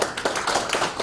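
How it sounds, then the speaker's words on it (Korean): Audience at a special Constitution Day lecture clapping, a brief burst of individual hand claps with distinct rhythmic slaps, close and fairly loud, no talking over it. "무조건 박수 치세요."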